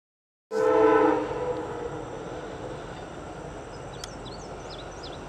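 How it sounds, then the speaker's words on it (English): An Amtrak passenger train's horn blares loudly, then fades into a steady rumble of the northbound train rolling past on a Canadian National line near Chicago, with a few faint bird chirps late on. "Northbound Amtrak train"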